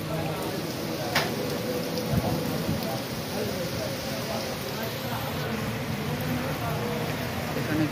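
Heavy rain with thunder at the Muktarpur cattle market, 2025: a steady, dense hiss of rainfall with a low rumble of thunder beneath, constant throughout and fairly loud.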